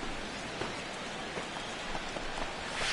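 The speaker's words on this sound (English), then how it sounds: "That rain is really coming down now." Heavy rain falls steadily in MLB The Show 16 during a ballgame, a dense continuous patter with scattered louder drops and a sharp tap at the end, no voices.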